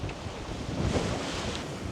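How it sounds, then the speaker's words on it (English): Ocean waves and surf wash around a sailboat crossing the Atlantic. The sound is a steady, broadband rush mixed with wind buffeting the microphone. It holds at a constant level throughout with no talk. "Wow, the waves."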